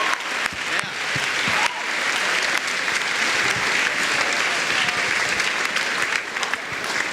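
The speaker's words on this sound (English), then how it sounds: "let's get a round of applause for Jacob" Sustained applause from a school morning meeting crowd after a piano performance, steady and fairly loud throughout, with scattered louder claps standing out.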